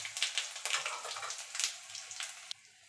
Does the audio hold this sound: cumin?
yes